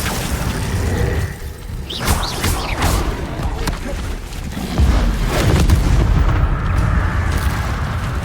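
Confringo blasting spell in Hogwarts Legacy, loud booming explosions with sharp cracking bursts around two and five seconds, followed by a rumbling roar.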